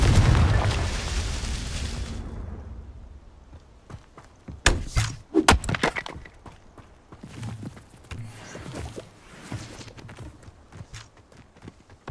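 A Confringo fire spell goes off in the video game Hogwarts Legacy, with a loud burst at the start fading out, then several sharp bangs and impacts in a fight, without talk.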